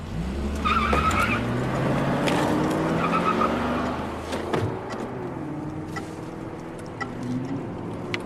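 A car pulls away during a police traffic stop, engine revving and tires scuffing at close range, with a steady motor drone and shifting pitch continuing as it drives off.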